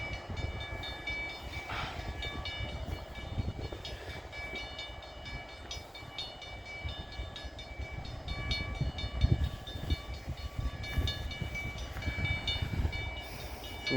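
A CN freight train sits stopped at a railroad crossing, its engine idling in a steady low rumble with a faint hiss and a few high tonal whines, no voices.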